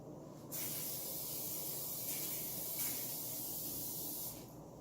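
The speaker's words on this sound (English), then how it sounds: "go ahead and spray the pan, getting it ready for the chicken" A steady aerosol hiss of cooking spray, lasting about four seconds without pause, close and fairly loud.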